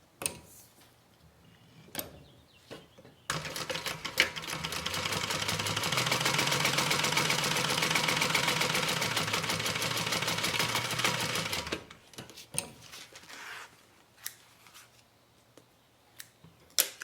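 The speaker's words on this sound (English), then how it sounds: "we're going to stitch across using a 1/2-inch seam allowance" A sewing machine runs steadily for about eight seconds, stitching a half-inch seam across the slip pocket of a thigh bag. Quiet handling sounds come before and after the stitching, and no one speaks.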